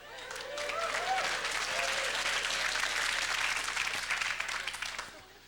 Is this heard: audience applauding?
yes